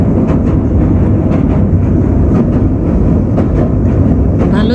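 Paryatan Express passenger train running from Dhaka to Cox's Bazar, heard from inside an air-conditioned cabin: a loud, steady rumble of wheels and carriage with repeated rhythmic clacks over the rails.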